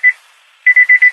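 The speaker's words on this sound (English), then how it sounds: "that's my door alarm" A car's door alarm chimes because the keys are left in the ignition: one loud electronic beep, a pause, then four quick identical beeps in a row, close and alone.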